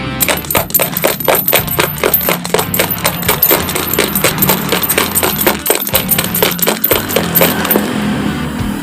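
Three coins rattled and shaken in a bowl, a rapid steady clatter of metallic clicks going on for several seconds, close and loud, with a faint hum underneath and no talking.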